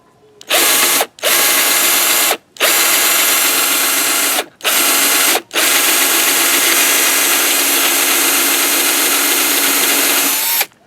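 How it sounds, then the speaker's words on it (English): A rivet remover power tool bores into a rivet on a Jeep Commander door handle, loud whirring bursts broken by short pauses, then one long continuous run with no talking. "Rivet remover. Let's try that out in there and see how this thing's going to work."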